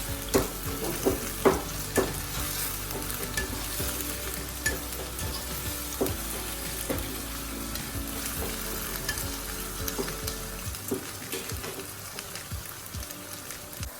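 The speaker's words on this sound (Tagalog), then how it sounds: "Medyo ipa-fry lang natin lahat hanggang sa lumambot na yung texture ng ating carrots at potato" Carrots and potatoes fry in a pan for sardine caldereta, giving a continuous crackling sizzle. Sharp stirring clicks and scrapes punctuate it, louder in the first seconds, then it settles to a softer hiss. No one speaks.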